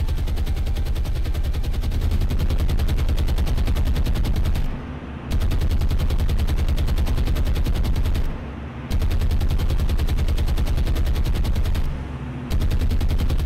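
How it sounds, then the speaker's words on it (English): Anti-aircraft guns on a warship in the naval video game War on the Sea fire in rapid continuous bursts, a loud dense machine-gun rattle broken by three brief pauses, with no speech. "There you go, guns are firing."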